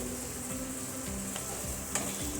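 A spoon stirs spiced potato and okra, seasoned with salt and turmeric, in a sizzling frying pan, with regular scraping strokes about every half second over a steady frying hiss.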